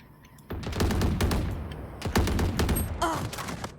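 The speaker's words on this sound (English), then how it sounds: "he's gonna keep shooting this side" Rapid gunfire in a tactical shooter video game, loud and close, with dense bursts and repeated single shots running almost continuously for several seconds, plus faint game effects.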